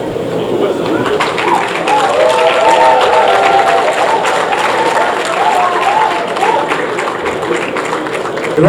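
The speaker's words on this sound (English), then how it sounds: "A round of applause for you." Sustained applause fills a hall during the inauguration of the FCT Head of Service and Permanent Secretaries under the minister, a dense, steady round of clapping lasting throughout with faint voices mixed underneath.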